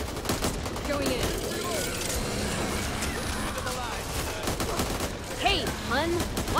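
Rapid bursts of gunfire in the zombie shooter Back 4 Blood, dense fusillades of shots running almost continuously, with game voices and people talking over the shooting.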